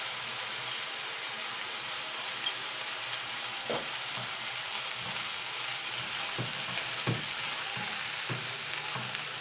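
Rice being stirred and fried in a pot, a steady close sizzle with a few soft scraping stirs, no talk.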